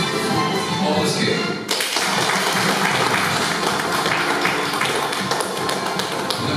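Applause from the audience at a school graduation ceremony, a dense, steady clapping that swells sharply partway through and carries on loud and close, with some voices underneath.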